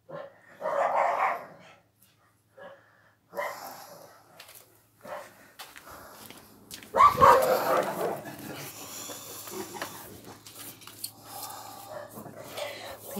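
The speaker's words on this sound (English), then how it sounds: "dog's barking at every bugger that walks past" A dog barks repeatedly at passers-by outside a house, with several loud bursts close by and a sharp bark midway, amid household noise.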